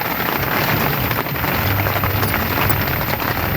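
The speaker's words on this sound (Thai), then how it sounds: "ฝนตกไปที่ไหนกันยาก" Rain falling steadily, a dense, constant hiss of drops on a surface, loud and close with no breaks.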